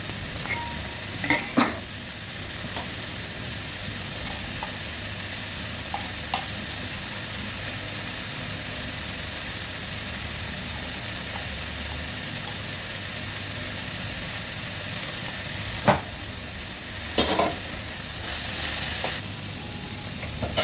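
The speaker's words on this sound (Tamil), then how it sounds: "நல்லா அந்த பச்சை வாசனை போகிற அளவுக்கு வதக்கி விட்டுக்கிட்டே இருக்கணும்." Cluster beans sautéing and being stirred in a pan for a kothavarangai kootu, a steady sizzle throughout with occasional scrapes and clinks of the utensil against the pan, no talking.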